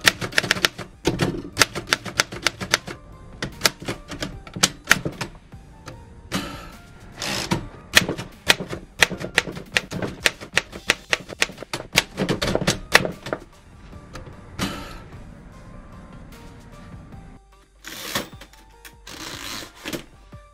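An old typewriter types on carbon paper with a dried-out ribbon: loud, close, irregular key strikes in quick bursts, with pauses and mechanical clunks from the carriage and platen, and a brief whirring movement near the end.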